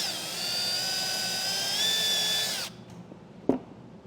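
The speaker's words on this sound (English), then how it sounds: "I'll drill a small hole for the light." A high-pitched drill whines steadily for a couple of seconds boring a small hole while installing a brake controller in a 2025 Acura, then stops abruptly, followed by quiet with a single short knock.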